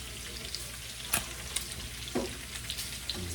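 Store-brand bacon frying in a stainless pan, a soft steady sizzle broken by several sharp pops and utensil clicks, no voices.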